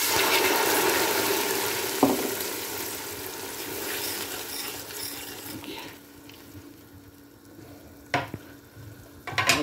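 Water hits a hot pan of fried onions with a loud, hissing sizzle that slowly settles into a steady bubbling fry, with a few clinks of a utensil near the end.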